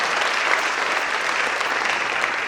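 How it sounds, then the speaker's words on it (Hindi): Sustained, even applause from a theatre audience at a staging of the Marathi play Ghashiram Kotwal, dense clapping filling the room without a break from start to finish. "जोरदार तालियों से स्वागत करें।"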